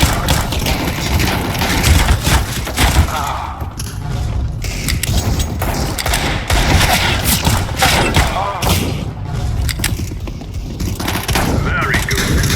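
Gunfire in Counter-Strike: Global Offensive during an arms race match, with dense, loud bursts of rapid automatic shots and reload clatter. A voice is briefly heard over the shooting.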